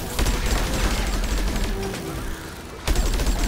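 A plant gun in Plants vs Zombies 2 fires rapid bursts, a dense continuous rattle of shots with crashing impacts, loud and close, easing briefly before another burst kicks in.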